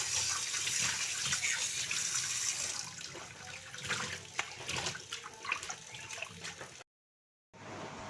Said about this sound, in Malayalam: അപ്പോൾ കുറച്ച് സമയം ഇങ്ങനെ ഇത് വെള്ളത്തിൽ കിടക്കട്ടെ കേട്ടോ.